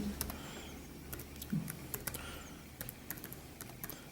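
Light, irregular key taps on a computer keyboard as a username is typed into a login form, quiet clicks over a low steady background hum.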